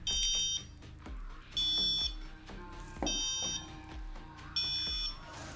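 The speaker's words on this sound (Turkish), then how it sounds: "buzzer'ım ötmeye devam ediyor" A Pinoo water overflow sensor's buzzer beeps in a repeating pattern of shrill tones, four half-second bursts spaced about a second and a half apart, clear and fairly close.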